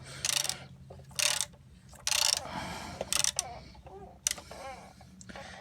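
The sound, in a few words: ratchet and socket tightening a radiator hose fitting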